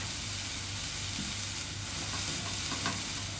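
Cabbage with egg stir-frying in a hot pan gives a loud, steady, close sizzle, with stirring scrapes and soft clatter breaking through every second or so, and no voices over it.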